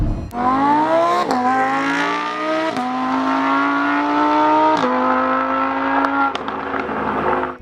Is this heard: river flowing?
no